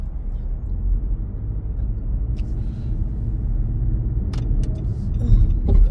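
Car driving in heavy traffic on Highway 40 on Easter Sunday, a steady low road rumble and engine drone filling the cabin, with faint passing-vehicle noise and a few brief clicks.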